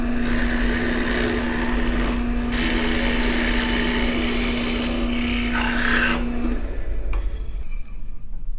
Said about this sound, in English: So we've now drilled the corner hole